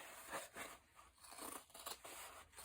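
Scissors snip through the sewn fabric layers of a clutch wallet's boxed corner, a series of short, crisp cuts in steady rhythm, close and fairly quiet.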